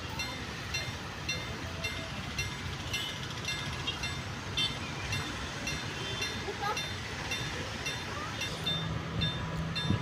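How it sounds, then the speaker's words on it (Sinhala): A passenger train runs along a railway near a rural village, its steady rumble and faint rhythmic clatter carrying continuously at moderate distance, with no voices over it. "දැන් මේ කෝච්චිය යන විදිය පේන විදිය"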